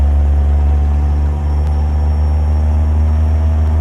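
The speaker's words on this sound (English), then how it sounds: "With this tiny engine, we're not going to be able to go too much more than that." Steady, loud drone of a small-engined truck cruising in American Truck Simulator, a constant low rumble with layered harmonics and no talk.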